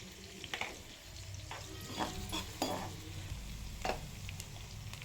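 Onion and cumin fry in hot oil in a pan for veg fried rice, giving a steady sizzle broken by several sharp stirring scrapes from a spoon against the pan, close and clear.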